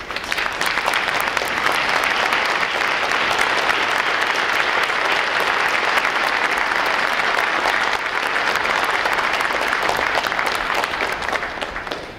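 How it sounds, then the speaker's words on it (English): Sustained applause from a large audience at a U.S. Navy recruit graduation ceremony as veterans stand, dense and steady clapping filling the hall for about twelve seconds with no talking over it. "For all our veterans, please rise so we give you a round of applause."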